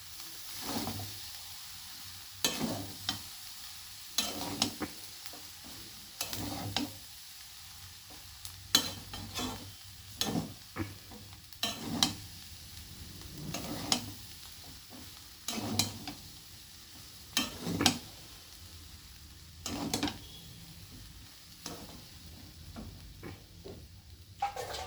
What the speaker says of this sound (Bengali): এবার দেখুন ভাতের সঙ্গে সবজিগুলোকে খুব ভালো করে মিশাতে হবে।